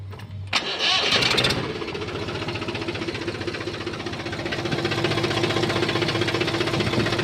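A 39-horsepower Mahindra B 275 DI tractor with a battery self-starter cranks with a brief whirring starter burst, then catches into a steady, close diesel idle with a rapid knocking rhythm that swells slightly toward the end.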